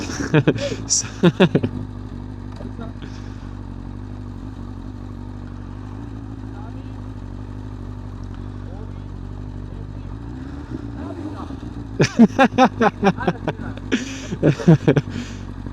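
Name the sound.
BMW S1000RR Gen 4 motorcycle riding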